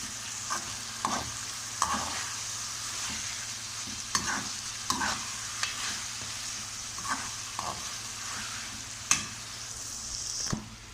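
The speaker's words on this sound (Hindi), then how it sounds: "थोड़ी देर के लिए फ्राई करेंगे।" Okra frying in oil with pickle spices, a steady close sizzle broken by repeated scraping stir strokes from a spoon in the pan, with no talking.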